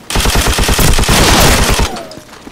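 An M60 machine gun in Call of Duty 4 hammers out a long, loud burst of rapid rounds, then cuts off, leaving a fading ringing tail.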